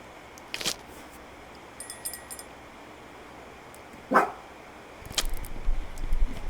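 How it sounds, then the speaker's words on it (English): A single dog barks sharply, fairly close, in one brief burst, set against a quiet room tone with scattered clicks and bumps. "It's like, of all times for him to start barking,"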